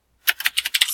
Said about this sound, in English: So, let me type that in here.